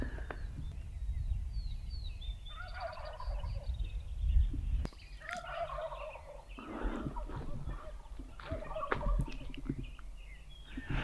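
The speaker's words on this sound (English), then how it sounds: "his gobble just then made me think he was a jake" A wild turkey gobbles in rapid rattling bursts, repeated several times at moderate distance over a low outdoor rumble, on public land in Montana.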